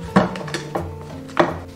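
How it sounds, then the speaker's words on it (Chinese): A thick snowflake crisp mixture with biscuits is folded and stirred in a bowl, producing a few brief, close knocks and scrapes of a utensil against the bowl. "翻拌这个需要用点力气"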